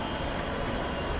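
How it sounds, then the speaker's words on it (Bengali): A metro rail train runs with a continuous, close rumble of wheels and carriage noise, steady and dense through the brief moment. "অভি আজকে আমরা প্রথম ট্রেনে উঠতেছি।"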